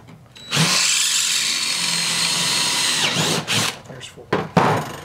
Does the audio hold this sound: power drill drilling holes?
yes